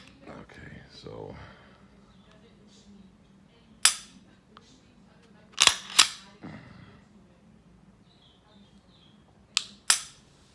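A Glock 34 pistol's trigger is dry-fired, giving sharp isolated clicks, single and paired, close and crisp, with a voice speaking briefly at the start.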